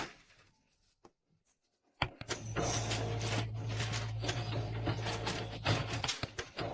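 A broken office printer that often jams paper grinds and whirs after a quiet stretch with a couple of clicks, then runs loud and continuous with rattling mechanical churning and a steady low hum.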